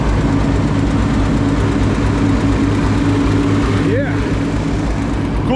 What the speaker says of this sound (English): Another running tractor.